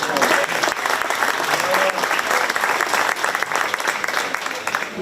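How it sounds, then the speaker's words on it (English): Applause from the audience at a 4-H/FFA market beef show at a county fair, a steady wash of many hands clapping, loud and close, continuing for about five seconds. "Please give them a round of applause."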